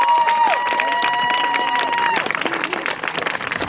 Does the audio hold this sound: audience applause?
yes